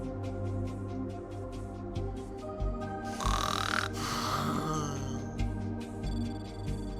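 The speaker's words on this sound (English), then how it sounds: "The snoring sleepy beagles walking around may seem harmless" A sleepy beagle creature in the game Fantasia snores in long, loud, rhythmic breaths over layered game music, with a burst of noisy texture in the middle.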